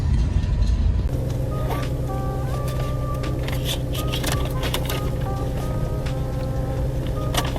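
Steady low engine drone and road rumble of a car driving through a city, loud and continuous inside the cabin, with faint ticks and small rattles over it.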